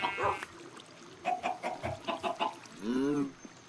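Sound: chicken clucking in video game Find the Button

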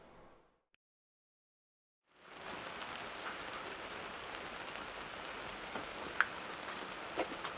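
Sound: rain

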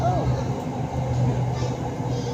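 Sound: Red Line electric train arriving at Bang Son station

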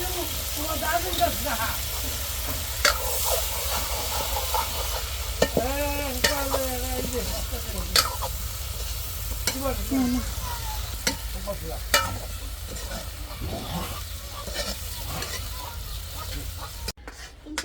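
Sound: eggplant and potato frying and being stirred in pan

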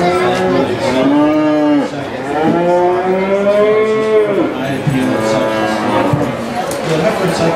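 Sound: cattle, heifer calves mooing in the fair show barn

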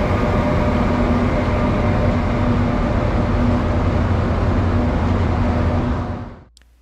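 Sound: KTX high-speed train running

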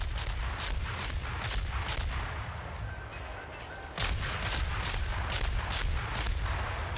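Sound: ship cannon gunfire in video game World of Warships, Dresden

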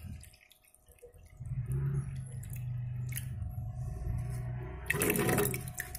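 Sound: pouring out some water from a fish jar

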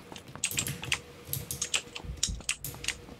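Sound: mechanical keyboard typing heard over a teammate's open mic

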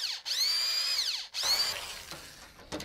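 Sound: power drill

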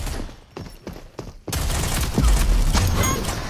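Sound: Gatling gun firing in a video game

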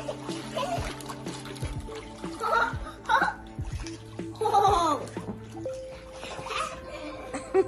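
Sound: child splashing in a new paddling pool

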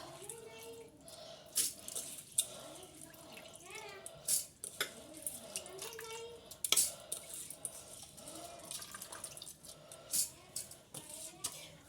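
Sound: washing rice in water

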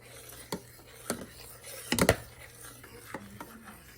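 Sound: stirring milk with custard powder and almonds in pot

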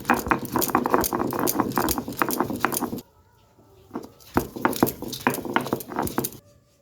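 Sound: grinding mustard seeds and green chilies on a grinding stone

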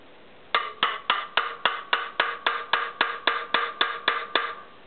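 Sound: hammer tapping valve parts on a motorcycle cylinder head

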